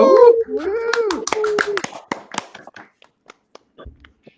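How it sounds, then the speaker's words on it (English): A small group at a year-end livestream cheers, then claps in scattered, uneven bursts that quickly thin out to a few isolated claps and fall quiet. "So, round of applause."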